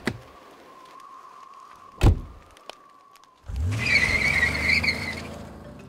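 A taxi car passes and then pulls away close by, with a brief sharp knock midway and then a rising, steady engine and road rumble filling the last few seconds, with no talking.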